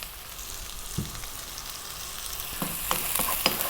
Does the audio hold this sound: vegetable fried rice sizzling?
yes